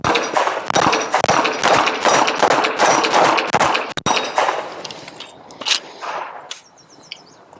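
Rapid pistol shots from a SIG P365 fitted with an aftermarket grip module at an outdoor range: about a dozen sharp, loud cracks in fast succession, then a few scattered shots and clatter as the string ends.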